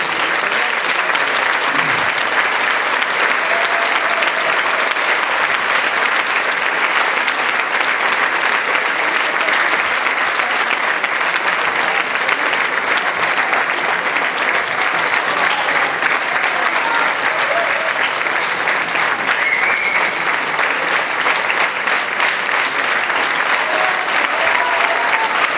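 A theatre audience at a jota festival gives a rondalla sustained, dense applause. The clapping stays loud and even for the whole stretch, with a faint murmur of the crowd underneath.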